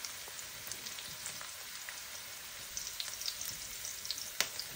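Onion and garlic sautéing in a pan for stir-fried egg noodles, a soft, crackly sizzle with scattered pops and a sharper clink near the end, no one talking.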